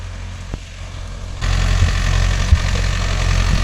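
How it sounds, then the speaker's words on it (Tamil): Mahindra Yuvo Tech Plus 585 4WD tractor, hitched to a 42-blade rotavator, with its engine running: a loud, steady low rumble that steps up in intensity partway through, with a couple of brief knocks and no speech. "வண்டியோட சவுண்டு பார்த்தீங்கன்னா ப்ரோ எப்படி மாறுதுன்னு."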